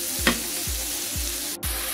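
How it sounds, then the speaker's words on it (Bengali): Long beans and mixed vegetables sizzle in a frying pan while a spatula stirs them, with four regular scraping strokes over a steady, close hiss. "তারপর দিয়ে দিচ্ছি বরবটি, এগুলো মিশিয়ে নিচ্ছি সবজির সাথে"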